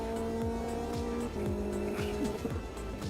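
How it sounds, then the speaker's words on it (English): Race car engine in the AMS2 sim racing game, revving with rising and falling pitch sweeps as the turbo spools up through gear changes, loud and continuous with faint tire noise, no talking. "you can hear the turbo spool up and go"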